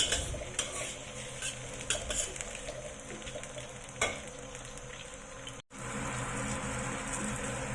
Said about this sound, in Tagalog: So, i-fry lang natin yan hanggang sa lumabas yung aroma ng ating ingredients.